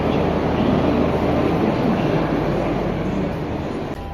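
A metro train running from its last stop, a loud, steady rumble and rolling roar from inside the carriage that persists throughout and eases slightly at the end.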